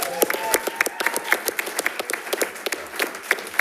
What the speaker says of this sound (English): So if everybody can give them a round of applause,